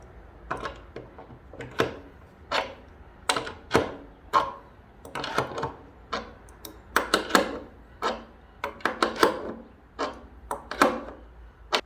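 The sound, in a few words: tightening carriage bolts with a wrench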